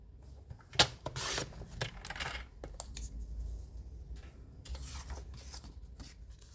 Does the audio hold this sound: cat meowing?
no